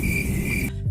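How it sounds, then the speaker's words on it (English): Crickets chirp in a steady, high-pitched insect trill over a low background, ending abruptly after under a second, with no voices. "Crickets."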